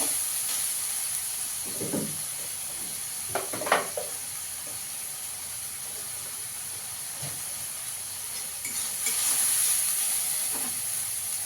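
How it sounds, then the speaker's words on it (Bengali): Spice paste with ground cumin sizzles and hisses as it is fried in a pan, a steady broadband crackle with a few brief scraping stirs and a louder surge of sizzle near the end. "ভালো করে একটু মশলাটা কষিয়ে নেব।"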